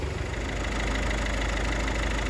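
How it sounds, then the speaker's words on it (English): Ford Transit Connect engine running at a steady idle after a timing belt failure, a loud continuous rumbling drone with no voices over it. "Transit Connect is up and running."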